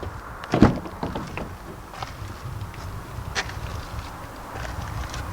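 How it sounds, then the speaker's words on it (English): The door of a 2020 Honda Passport SUV is unlocked and opened: a sharp latch clunk near the start, then a few softer clicks and thuds against quiet outdoor background. "you just reach behind the handle to unlock the door"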